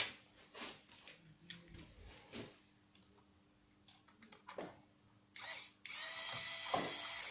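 Screws being tightened on an HP laptop heatsink: a series of small sharp ratcheting clicks and short screwdriver whirs close up, ending in a longer burst of mechanical rattling.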